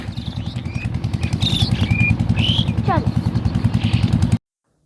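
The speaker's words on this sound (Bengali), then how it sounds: "ওই পাশে যে একটা ফটা ফটা করে মেশিনের আওয়াজ করে চলছে, পানি উঠাচ্ছে, ওটা ডিজেল চালিত" A diesel-powered water pump engine chugs steadily nearby beside farm fields, its rapid, even thumping rhythm loud and continuous, with a few bird chirps above it, until it cuts off abruptly near the end.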